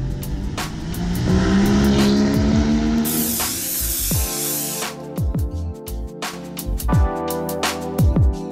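A 2018 Land Rover Discovery SUV drives on Los Angeles city streets, its engine and road noise steady and fairly loud, with a hissing rush in the middle and several sharp knocks and bumps later on.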